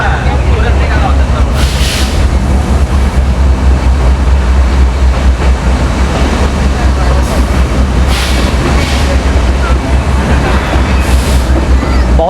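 Matheran toy train running along the hill railway, a loud, constant rumble and rattle of the carriages heard from on board, with a voice talking over it at times.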